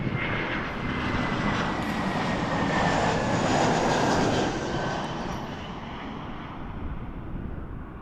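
An airliner comes in to land at Toronto Pearson Airport with a steady, loud jet roar that swells to a peak midway and then slowly fades, heard alone without voices.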